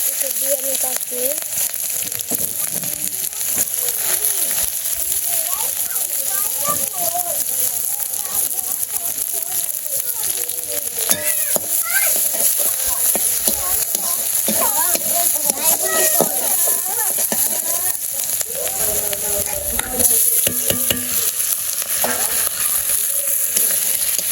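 Chicken skin sautéing in a pan in a village kitchen, a loud continuous sizzle with scraping stirs throughout, while a person talks over it.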